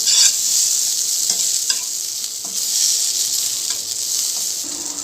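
Pabda fish frying in oil in a pan, a strong close sizzle with occasional spatula taps and shifts, no talk.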